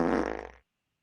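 One loud, close fart noise lasting about half a second, tapering off abruptly into silence.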